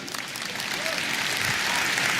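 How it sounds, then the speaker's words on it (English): Large conference audience at the Nordic Business Forum 2016 applauds in a dense, continuous wash of clapping that holds steady and swells slightly toward the end. "And you clap, my friends, because you know."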